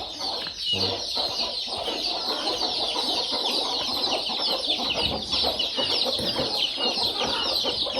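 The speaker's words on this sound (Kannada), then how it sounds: "ಪ್ಯೂರ್ ನಾಟಿ ಕೋಳಿ" A flock of free-range country chickens clucks and chatters nonstop, close by, their overlapping calls forming a busy, dense barnyard din.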